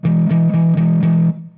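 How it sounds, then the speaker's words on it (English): Major third interval on a distorted electric guitar, picked in a quick run of four or five even chugs that ring loud and close before cutting off, with no voice present. "This is what a major third sounds like."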